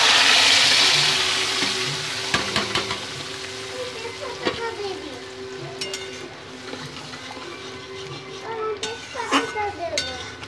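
Dal is poured into a hot oil tempering while mug dal with bottle gourd is cooked, setting off a loud sizzle and frying hiss. A spoon clinks and scrapes against the pan as the sizzle dies down.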